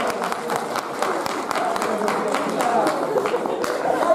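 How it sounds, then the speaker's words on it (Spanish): Congregation applause at a church gathering, a steady patter of many hands clapping at moderate loudness with voices mixed in throughout. "Un aplauso"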